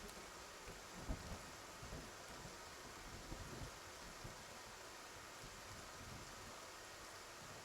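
Steady rain falling in the video game Love and Deepspace, a constant hiss with a few low rumbles of thunder rolling in the first half, faint and distant, with no voices.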